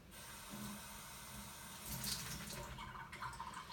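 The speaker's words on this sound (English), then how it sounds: "Now, I'm going to take this cloth and I'm going to wet it." Tap water runs steadily into a sink as a cloth is wetted, a continuous close splashing stream with slight shifts as the cloth moves under the flow.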